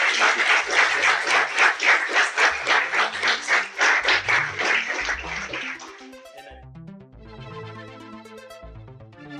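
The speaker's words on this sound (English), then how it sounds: "big round of applause for you" A live audience at an artificial intelligence festival talk gives hearty rhythmic clapping that swells and then thins out after about six seconds, as music plays underneath and briefly after.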